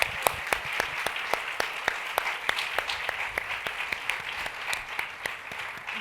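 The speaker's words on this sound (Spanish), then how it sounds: "Les pido por favor un aplauso a Janet" An audience applauds at a literary conversation event honoring a publisher, with steady even clapping close by and individual sharp claps standing out in a regular rhythm for several seconds.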